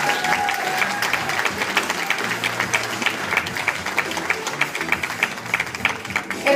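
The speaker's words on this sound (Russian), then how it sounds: "Ваши аплодисменты." Sustained audience applause for the finalists at a Meydan FM radio show final, a dense, steady wash of many hands clapping close by that continues throughout.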